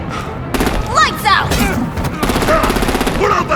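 Gunfire in the video game Batman: The Enemy Within, rapid bursts of shots and thuds mixed with shouting voices and game sound effects, close and loud.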